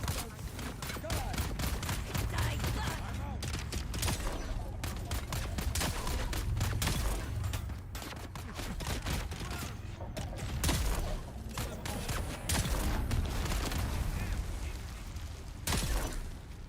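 Bursts of gunfire in the Dune Awakening video game, aimed at the player, come in rapid volleys that repeat across the span, loud and dense with brief gaps between salvos.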